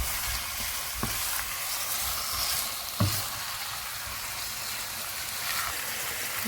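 Minced meat frying in a hot pan, a steady hissing sizzle with a couple of sharp scraping stirs and knocks of the utensil against the pan.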